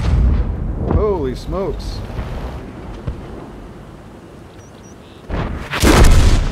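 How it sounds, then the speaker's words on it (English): Artillery blasts in a tank video game, a heavy booming explosion that bursts loudly near the end, with an excited voice exclaiming over the game sounds. "And that is what artillery can do, guys."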